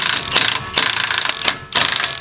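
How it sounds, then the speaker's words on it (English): Ratchet loosening an upper control arm bolt on a Ford Maverick during a lift install, with quick rhythmic clicking in several bursts separated by short pauses, close and fairly loud. "we are going to loosen but not remove that upper control arm bolt"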